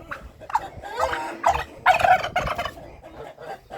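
A turkey tom among a flock of hens lets out loud, repeated gobbling calls in quick warbling bursts near at hand, one after another with brief gaps, and no voices.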